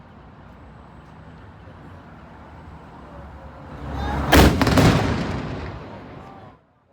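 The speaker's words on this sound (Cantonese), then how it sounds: "每日中午12點呢，都有人喺嗰度放炮嘅。" The Noon Day Gun, a cannon on the Causeway Bay waterfront in Hong Kong, fires one loud, sharp blast that rolls off into a fading rumble, over a steady wash of nearby traffic.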